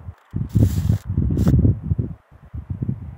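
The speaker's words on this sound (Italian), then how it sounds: "Guarda il vento." Wind gusts rushing across an open grass field scattered with dandelions and alfalfa, loud, close and buffeting in uneven surges with brief lulls between them.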